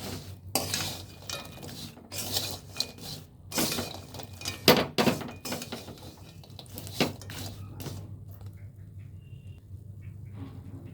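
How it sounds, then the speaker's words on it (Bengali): Kurma sweets tossed quickly with sugar in a metal pot, a spoon scraping and clattering against the sides in fast uneven strokes, close and clear, easing into a quieter rustle at the end, with no talking. "দিয়ে এটাকে একটু ভালো করে চিনির সাথে মিশিয়ে নেব বন্ধুরা"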